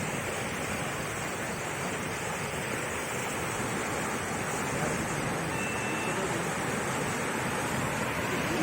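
An overflowing river rushes in flood during torrential rain beside a college in Dineshpur, a loud, continuous broadband roar of water that stays steady and close throughout.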